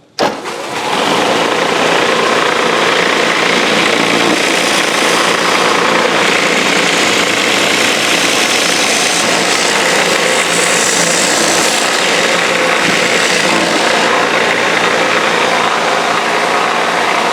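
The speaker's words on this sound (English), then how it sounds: "So let's fire up the sander and get her done." A power sander runs loud and steady while squaring the end of a wooden drum pattern for a Deere Amazon mill, starting abruptly with a short burst and then holding a constant broadband whir to the end.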